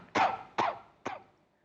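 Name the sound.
coughing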